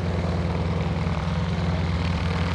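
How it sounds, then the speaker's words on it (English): A 150 horsepower Super Stearman biplane drones steadily overhead at an airshow, its propeller engine a loud, continuous rumble with no break. "here's the 150 horsepower Super Stearman"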